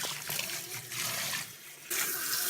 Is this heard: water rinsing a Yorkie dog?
yes